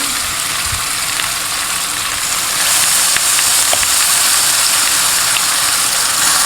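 Semolina roasting in a pan for jaggery halwa gives a steady, close hiss and sizzle throughout, with faint stirring scrapes and no talk.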